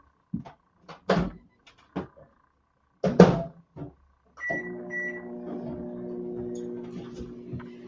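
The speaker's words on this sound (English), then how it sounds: "just pop this in the microwave for 60 seconds" A microwave oven heating raw cake mix starts with a few door and button clunks, then settles into a steady low electrical hum after the door shuts.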